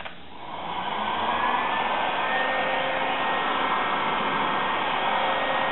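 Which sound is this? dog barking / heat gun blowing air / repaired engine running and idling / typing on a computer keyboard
heat gun blowing air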